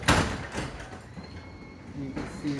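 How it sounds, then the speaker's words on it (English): A motorised garage door runs with a trolley mechanism on its track, giving a continuous mechanical rumble and whir close by, with a brief louder thump at the start. "So the trolley cannot move unless the door moves."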